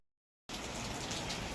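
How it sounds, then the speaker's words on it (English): Steady rain sets in after a half-second of silence, a soft, even hiss of drops on surfaces that stays constant and fairly faint to the end. "unfortunately it started raining"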